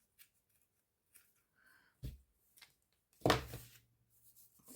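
Scissors snip through craft ribbon a few times during card making, one sharp louder cut standing out, close and quiet with no talking.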